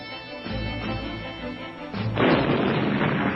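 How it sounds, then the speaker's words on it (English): Heavy naval and air bombardment during the Incheon landing rumbles continuously in a loud, dense roar of blasts that swells and grows harsher partway through, with no voices. "Heavy naval and air bombardment cleared the path ahead of them."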